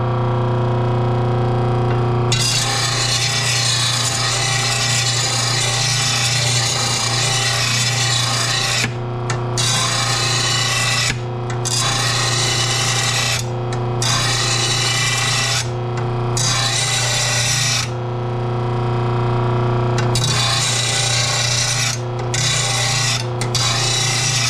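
A riding mower blade, from a McCulloch M195-42T, is ground against a worn sharpening disc, producing a loud, continuous rasping grind over a steady motor hum, broken by several brief lifts of the blade from the disc.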